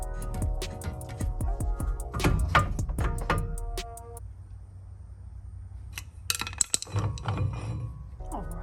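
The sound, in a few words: removing brake caliper bolts on a 2011 Audi A3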